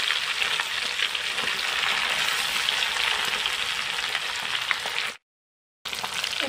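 A fish head fries in hot oil with a dense, continuous crackling sizzle, loud and close, broken only by a brief silent gap near the end.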